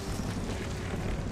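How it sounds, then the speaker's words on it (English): A grenade blast at a creature spawner in the Lost Planet 3 video game, heard as a loud, sustained low rumble with broad roaring noise and no voices. "Now he's throwing a grenade at the spawner"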